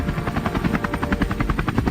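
Steady, rapid thumping of helicopter rotor blades during a wild boar hunt, loud and continuous throughout, with a low engine rumble underneath.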